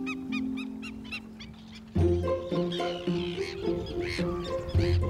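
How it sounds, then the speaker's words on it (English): Black-winged stilts call on the Gironde salt marsh, repeated sharp yelping notes from several birds, close and insistent, with a tonal drone underneath and a busier overlapping chorus in the second half. "Black-winged stilts also nest here, and they too are noisy."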